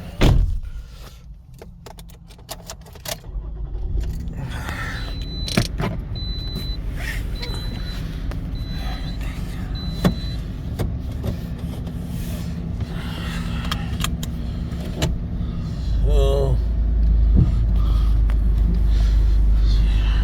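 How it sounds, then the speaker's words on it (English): A 2012 Toyota RAV4 is unlocked and pulled out to drive, with a door or window motor whirring, a short chime series, then the engine and road rumble growing louder and steadier toward the end, close by and without talk. "So let me pull it out so we can drive"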